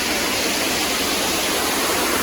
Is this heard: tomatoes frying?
no